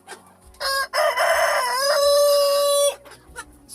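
A farm rooster crows once at close range, a loud, drawn-out cock-a-doodle-doo standing alone with only faint sounds before and after.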